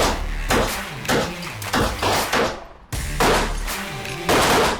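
Repeated gunshots from a small Beretta 21A Bobcat pistol fired at pop cans 10 yards away, sharp loud reports spaced irregularly about every half second to second, with ringing tails and no talk.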